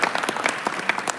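An audience claps during a devotional Paryushan bhakti gathering, with steady, dense applause at moderate loudness through the whole clip.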